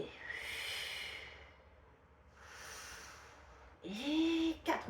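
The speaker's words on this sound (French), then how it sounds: "On va inspirer, expirer" Two close, airy breaths in and out during a Pilates session, soft and steady, followed by a brief burst of voice at the end.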